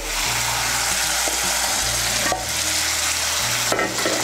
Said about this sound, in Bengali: পটলগুলোকে আর একটু কষিয়ে নেব মশলার সঙ্গে